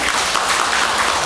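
An audience claps during a Buddhist dharma talk at a temple, a short burst of dense, steady applause filling the room.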